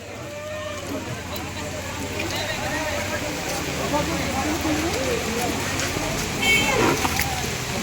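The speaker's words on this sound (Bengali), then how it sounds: "যা বৃষ্টি হচ্ছে" Steady, dense rain pours down, a continuous hiss of drops striking surfaces, with faint indistinct voices in the background.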